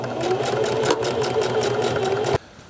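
A sewing machine runs steadily, stitching together a flattened, rolled-over Old West tie, with a close, even motor whir and rapid needle pulses that cut off abruptly near the end.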